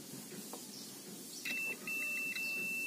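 A multimeter in continuity mode tests a transistor on a Polytron slim TV board. It gives two steady high electronic beeps, each roughly half a second to a second long with a short gap between, over faint room noise.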